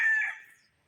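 A six-month-old Kelso gamefowl rooster of Mount Banahaw bloodline, on a game farm in Dolores, Quezon, gives a single short, close call that fades away within half a second, with silence after it.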